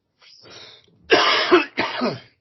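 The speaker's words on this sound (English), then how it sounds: "I keep having a cough" A quiet throat-clearing rasp, then two loud, harsh coughs in quick succession, close to the microphone.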